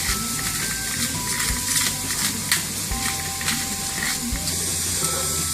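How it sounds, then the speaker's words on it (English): Spices stirred in a pot of chicken corn chowder, the spoon scraping the bacon bits off the bottom over a steady loud sizzle. Scattered scrapes and knocks run through the continuous frying hiss, close up with no talking. "Just going to give it a stir, scrape up the bottom, get all those good bacony bits that were left behind."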